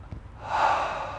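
A single audible exhale through nose and mouth during a shower squat exercise, starting with a small sniff and swelling into a breathy rush of air that fades out, close and fairly quiet.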